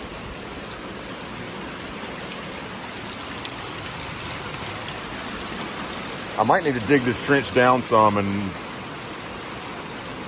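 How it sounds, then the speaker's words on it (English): Steady rain falls on a wet farm slope with a drainage trench and clogged pipe, a constant hiss throughout, while someone speaks briefly over it near the end. "Now that the rain's slowing down, it seems to be doing okay."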